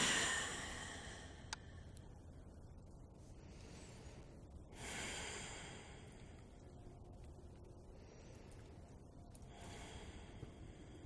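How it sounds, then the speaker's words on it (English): Slow, deep breaths come during a yoga squat, with several long, airy inhales and exhales spaced a few seconds apart, close and soft over a quiet room. "And breathe."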